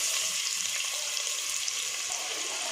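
Steady, close sizzling hiss of cloves, star anise, a bay leaf and two onions frying in oil in a pan, continuous throughout with no talking.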